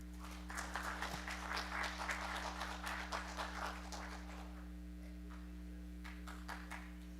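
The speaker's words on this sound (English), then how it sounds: "Everyone give him a round of applause." Audience applause at a teens conference hall, a fairly quiet patter of clapping that swells briefly then thins to scattered claps over a steady electrical hum.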